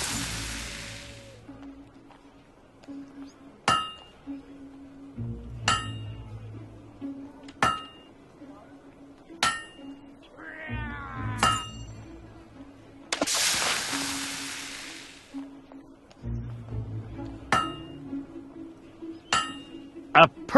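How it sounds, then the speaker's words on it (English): Blacksmith's hammer striking a blade at the forge in the video game Fable 2, ringing metallic clangs landing in a steady rhythm about every two seconds, loud and close, with bursts of hiss and background game ambience between blows. "A perfect hammer blow."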